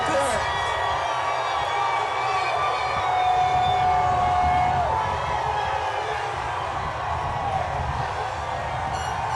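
Thousands of Oklahoma City Thunder fans at the NBA championship parade let out a sustained, distant roar of cheering, with a wailing siren-like tone rising through it and a voice talking over the top.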